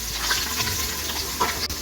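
Onions sizzle in hot oil with cinnamon and cloves for khichdi, a soft steady crackle with light stirring and no talk.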